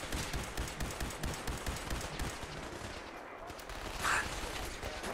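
Gunfire and blasts sound during Fallout 4 combat in a rapid, rhythmic series of close reports, followed by a brief sharp burst after a short lull, with no speech.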